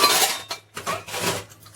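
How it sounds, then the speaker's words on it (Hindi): Dishes being washed by hand in a home kitchen, with steel utensils and pots clinking and clattering in quick irregular bursts close by. "बर्तन धुल रहा हूँ"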